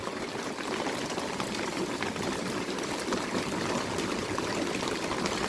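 Heavy rain pours steadily outdoors in a monsoon downpour, a dense continuous wash of water noise that stays loud and unbroken throughout, with no voices.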